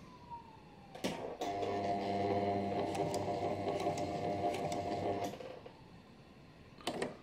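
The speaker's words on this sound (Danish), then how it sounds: "Jeg vil gerne have en syning så tæt ved kanten her som overhovedet muligt" A sewing machine runs a steady mechanical whir for about four seconds while stitching close to a fabric edge, with short clicks before and after the run.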